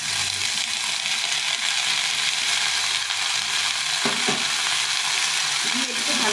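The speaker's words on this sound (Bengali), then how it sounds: "দিয়ে একটু ভালো করে ভেজে নেব।" Green beans, banana stem and drumstick pieces fry in hot oil in a pan with a loud, constant sizzle, broken by a few sharp scrapes as they are stirred.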